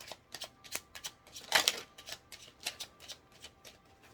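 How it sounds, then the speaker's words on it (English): Fortune cards are shuffled close up in a quick series of crisp riffles and flicks, with one louder burst partway through, no voices. "Final shuffle"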